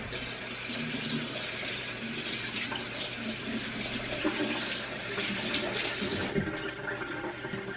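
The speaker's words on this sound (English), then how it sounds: "I'm about to wash my hands" Tap water runs steadily into a kitchen sink while hands are washed, a continuous close splashing rush with slight shifts as hands move under the stream.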